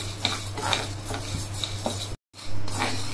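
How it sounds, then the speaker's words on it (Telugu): Urad dal dry roasting in a pan with no oil, grains rattling and scraping as a spoon stirs them in repeated strokes over a low hum, with a short silent gap near the end. "మినపప్పు కూడా ఇలా దూరగా వేయించుకోవాలి"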